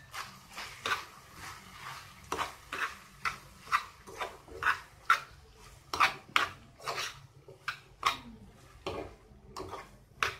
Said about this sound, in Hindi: 1/2 टीस्पून नमक डालिए और हरा धनिया डालकर इसे अच्छे से मिक्स कर लें